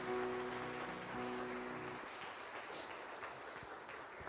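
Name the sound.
congregation applauding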